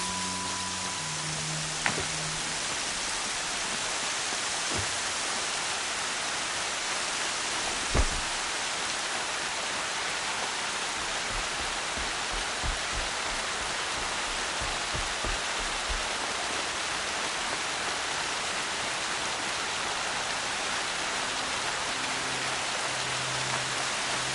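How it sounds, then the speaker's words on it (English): Steady rain falls in Horizon Zero Dawn, a constant, even hiss of rainfall with occasional faint thuds and clicks underneath. "Rain's not so bad."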